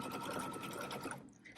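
A sewing machine stitches down a pre-batted quilt block with a fast, steady mechanical whir of needle strokes, close and clear, stopping after about a second and a half.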